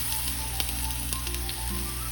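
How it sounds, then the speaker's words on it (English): Steady, close sizzling of mushroom-based vegan scallops searing in hot oil, a dense crackling hiss that continues evenly throughout with no voices. "I kept the volume on so you can hear this awesome sizzle."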